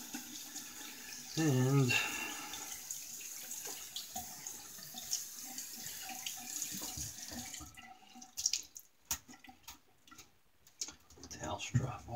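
Tap water runs into a sink while a shaving brush is rinsed, a close, steady splashing stream that later gives way to clinks and handling noises, with a single spoken word.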